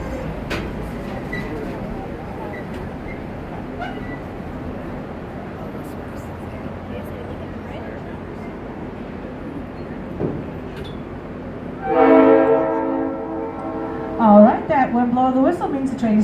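A train in the Royal Gorge rumbles along and slows, with brakes squealing in a long high screech near the end as it comes to a stop, voices briefly audible.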